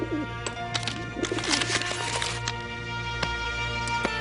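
A carrier pigeon coos in a soft, repeated rhythm against a steady low hum, with a few sharp clicks scattered through the scene.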